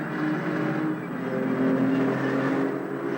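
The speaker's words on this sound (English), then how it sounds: "Now the Jaguars of the Castrol team get away first in the sedan car scratch race." Castrol team Jaguar sedans pulling away at the start of a 1960 sedan car scratch race, engines droning and revving together in a sustained, moderately loud roar with no one talking.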